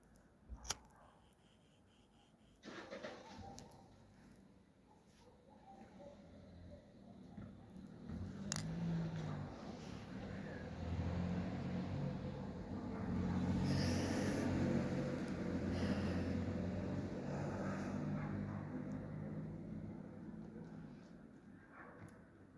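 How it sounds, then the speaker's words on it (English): An electric car passing slowly nearby, a faint hum and tyre rumble that swells gradually to a peak midway and then fades, heard alone in a quiet outdoor setting. "Car passing."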